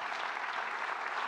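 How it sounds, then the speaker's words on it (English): A church congregation clapping their hands during a Sunday worship service, a steady dense patter of many hands filling the room throughout with no break. "Would you clap your hands to the Lord today?"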